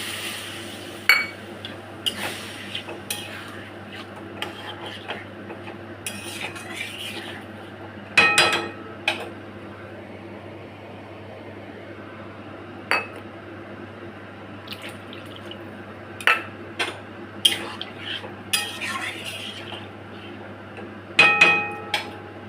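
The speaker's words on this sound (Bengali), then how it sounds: "ভালো করে কষিয়ে নিয়েছি, এবার জল দিয়ে দেবো।" Water poured into a home-cooked Bengali egg curry in a cooking pot, with faint running and splashing water and scattered clinks of a utensil against the pot, no talking.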